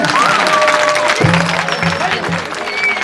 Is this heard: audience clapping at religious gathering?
yes